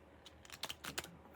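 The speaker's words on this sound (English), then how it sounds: "Let me shuffle 3 times." Tarot cards being shuffled, the deck a little stiff: a quiet, brief run of soft papery riffles and flicks, building to several sharper snaps near the end, with no voices.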